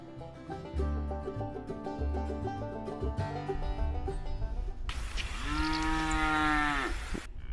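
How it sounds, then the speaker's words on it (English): Cows mooing at a cow milking class, several drawn-out lowing calls over a melodic musical backing, loud and close. "Welcome, Billy, to Cow Milking 101, DFU's entry-level class for becoming a first-rate dairyman."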